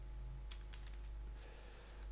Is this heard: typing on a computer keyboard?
yes